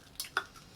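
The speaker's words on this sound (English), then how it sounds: "Let's give it a stir." A spoon stirring Irish coffee in a glass, giving two quick clinks against the side followed by a faint swirl, close and brief.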